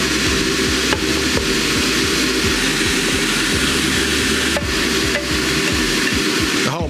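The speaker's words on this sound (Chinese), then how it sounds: "然后我们就翻炒" Vegetables tipped into a hot pan and stir-fried for a red wine oxtail stew, a loud continuous sizzle broken by repeated scraping strokes of the spatula in a steady rhythm, with no talk.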